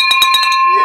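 A victory bell rung in an office, sounding as several bright metallic strikes in quick succession with a sustained ring that lingers and fades, close and loud.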